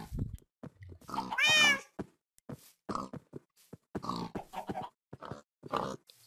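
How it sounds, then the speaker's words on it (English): A pig in the Minecraft BlockHunt mini-game makes meowing, cat-like calls mixed with grunts, several short cries spaced across a few seconds, clear and close against silence. "there's a meowing pig, totally."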